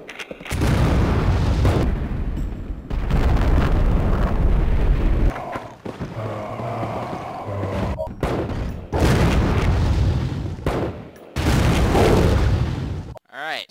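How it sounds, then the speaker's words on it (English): A regular grenade launcher in Resident Evil: The Umbrella Chronicles fires and explodes in a series of loud, booming blasts with rumbling tails, separated by brief gaps. "let's test the regular grenade launcher out"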